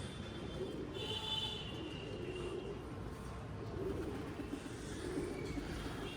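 Pigeons in a loft with new nesting boxes and paired breeding birds, giving low continuous cooing over a steady background hum, with a few higher chirps; no talk.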